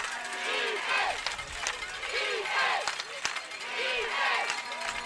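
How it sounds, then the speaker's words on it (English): Packed stands at a Louisiana high school playoff football game, Parkway against Hahnville, with fans yelling in rhythmic repeated surges, loud and sustained, with scattered claps. "The crowd yelling defense."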